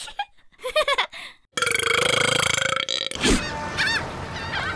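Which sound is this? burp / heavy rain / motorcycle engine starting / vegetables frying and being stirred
burp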